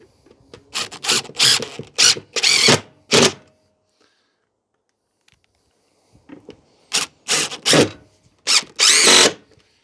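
A power drill drives screws to wall-mount a VEVOR retractable hose reel, in a series of short loud whirring bursts, a pause of near silence, then another run of bursts, close up.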